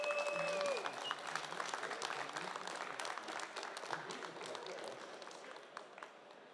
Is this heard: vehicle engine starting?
no